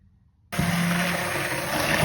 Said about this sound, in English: I'm going to add it on the stick blender to avoid any turbulence